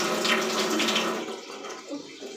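Cold water splashed onto a face burning from chillies during a spicy curry-eating challenge, heard as a steady, close rush of running, splashing water that eases off slightly toward the end.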